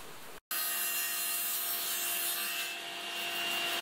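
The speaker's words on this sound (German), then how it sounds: "säge da jetzt mir einfach mal zwei so Gärungen daran" Hand saw cutting 20-degree miters into narrow wooden boards for a simple birdhouse, a steady continuous rasping stroke sound close by after a brief pause at the start.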